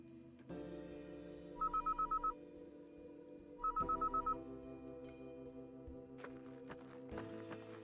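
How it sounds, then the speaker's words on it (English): Electronic pager in the video game Kathy Rain 2 beeping in two quick bursts of about six short tones each, heard over a steady low musical drone with occasional soft clicks. "I heard that thing beep in your pocket."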